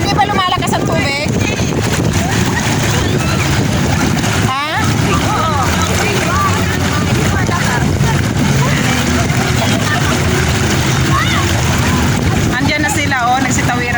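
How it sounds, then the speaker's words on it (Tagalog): Strong river current rushing at a crossing near Norzagaray, Bulacan, a loud, steady wash of water with heavy wind buffeting throughout and brief voices over it. "Dito lumalakas ang tubig."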